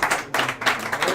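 A pub audience at a traditional Irish music session bursts into applause, with a dense patter of clapping hands filling the room for about a second, close and lively.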